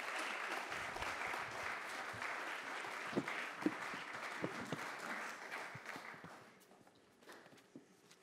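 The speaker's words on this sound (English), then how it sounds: "can we give them a round of applause?" Audience applause for a panel at a creators conference, a dense round of clapping that carries on for several seconds, then thins out into scattered claps and footsteps as it fades.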